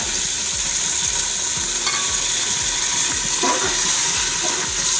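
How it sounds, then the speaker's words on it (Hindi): A spoon stirs tomato, peas and green chillies in a hot pan, with repeated scraping strokes in a steady rhythm over continuous close sizzling. "और इसको चम्मच चलाते रहें ताकि ये जले नहीं।"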